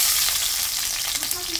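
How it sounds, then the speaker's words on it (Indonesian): Shallots hitting hot oil in a pan, a steady loud sizzle and crackle of frying that runs through the whole moment with no voices over it. "minyak udah panas. Kemudian masukkan bawang merah."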